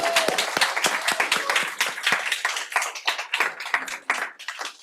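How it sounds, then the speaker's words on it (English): A pitch-night crowd gives presenters another round of applause, with sharp individual handclaps near the front over a thinner crowd of clapping that gradually loosens and thins out toward the end. "Can we give them another round of applause?"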